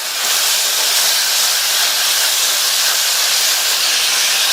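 Onions and two chopped small tomatoes sautéing in a pan for a vegetable gravy, a steady loud sizzling hiss that holds evenly throughout with no talk.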